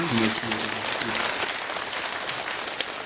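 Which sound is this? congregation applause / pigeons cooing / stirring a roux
congregation applause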